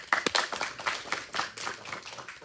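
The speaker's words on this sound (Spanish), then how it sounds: "Dale un aplauso." A lecture-hall audience gives a short burst of scattered hand clapping, uneven and moderately close, fading over a couple of seconds.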